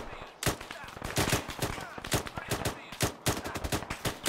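Rapid bursts of automatic gunfire in Arma 3, a war shooter, crack out in dense volleys with short pauses, loud and close, as a player fights enemies in a building.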